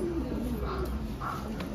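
A green pigeon, an Indian green dove-type bird kept in a loft, gives soft low cooing notes, close by and steady across the short stretch with no talk.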